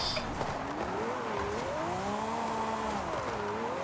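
A car drifting sideways in Forza Horizon 5, a steady wavering tire squeal that rises and falls over a continuous engine drone, with no talk.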